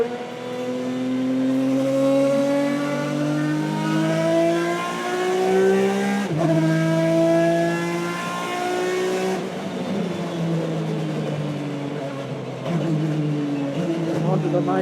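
A BTCC-spec Ford Mondeo race car engine revs hard to 8,000 RPM through rising gears on track, climbing in pitch with brief drops at each shift, loud and close from inside the car.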